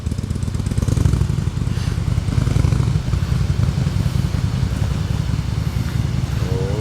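A Harley-Davidson motorcycle engine runs loud and close with a steady low throbbing beat and slight revving as throttle is applied, continuous throughout without speech.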